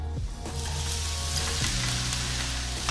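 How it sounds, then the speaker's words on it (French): Aubergine pieces frying in olive oil in a wok, a steady loud sizzle with faint stirring clinks, no voices. "je vais y faire cuire les morceaux d'aubergine"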